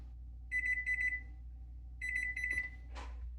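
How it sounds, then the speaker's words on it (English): A kitchen timer beeps in two bursts of rapid, shrill electronic pulses, each a quick cluster of four beeps, close and clear against a quiet room hum, with a brief clunk as it is stopped while baking an apple cake. "I don't even need this timer."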